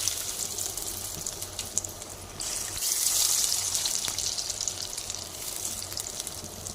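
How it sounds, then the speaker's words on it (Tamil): Mushroom pieces for Manchurian frying in hot oil in a pan, a steady close hiss and sizzle that swells louder partway through and continues without any talking. "இப்போது இந்த மஷ்ரூமை கொஞ்சம் கொஞ்சமாக எண்ணெயில் போட்டு பொரிச்சிக்கலாம்."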